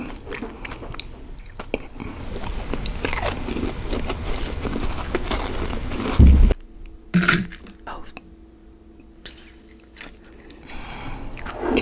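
Close, crisp bites and crunchy chewing of an Oreo cheesecake cookie recorded for ASMR, repeated bites over the first half, then quieter chewing with small mouth sounds.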